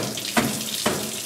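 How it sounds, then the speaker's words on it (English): Hot water runs from a sink tap in a steady hiss, broken by two brief splashy bursts as something is pushed under the stream. "So I run the hot water and just squish it up."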